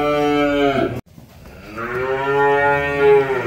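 Simmental beef cattle low loudly: a deep, close moo breaks off abruptly, followed after a short pause by a second long, rising bellow, with no talking.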